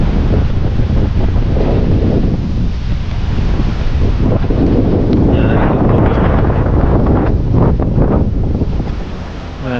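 Strong wind blows across a houseboat on the backwaters of Alappuzha, Kerala, buffeting the microphone with a loud, continuous rumbling roar and a faint wash of water beneath.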